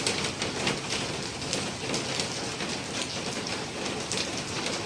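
Steady, dense rain pours down in a loud, even hiss with no letup, close by and alone, with no voices.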